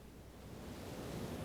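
Ocean waves in the game Zero Escape 999 wash in a soft, steady roar, faint and continuous like distant surf with no distinct breaks.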